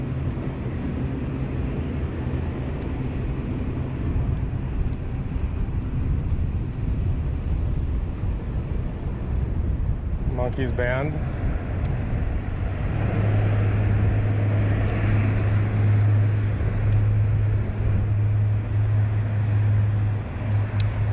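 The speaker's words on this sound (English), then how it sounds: "Oh, there's another plane coming." A plane passes over Toronto while the recorder cycles outdoors, a steady broad roar mixed with wind and traffic noise that swells and lingers, with a brief voice in the middle.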